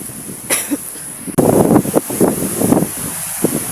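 Blustery wind on a foggy mountaintop buffets the microphone in loud, rumbling gusts, with rustling texture and a faint high whine over it.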